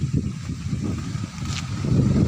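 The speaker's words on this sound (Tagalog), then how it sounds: "Hangin lang talaga para may bumubulong-bulong dito sa ating vlog." Wind buffets the microphone outdoors in farm fields, a steady low rumble that swells toward the end, with no talking.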